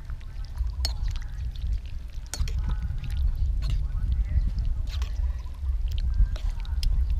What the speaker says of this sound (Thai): เทน้ำซุปก่อนครับเดือดด้วย